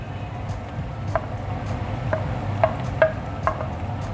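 Stirring tomatoes into spring onion chutney in a pan: a steady low sizzle underneath, with a handful of soft, scattered spoon scrapes and taps at irregular intervals, close by.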